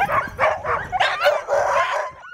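Sled dogs bark, yip and whine in quick overlapping bursts, loud and close, an excited chorus of several high-pitched voices.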